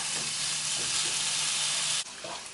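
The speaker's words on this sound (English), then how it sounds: "We're gonna go ahead and add the bacon." Bacon fries in a pot with a dense, steady hiss and sizzle that holds evenly, then dips abruptly, leaving a softer crackle and a brief knock at the end.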